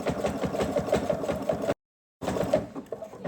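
A sewing machine stitches a jelly roll fabric basket in a steady mechanical run, stopping briefly into silence before starting up again at a slightly lighter pace.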